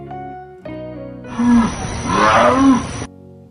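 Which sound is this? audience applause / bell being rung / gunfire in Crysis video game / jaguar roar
jaguar roar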